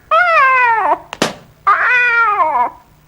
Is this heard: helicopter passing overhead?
no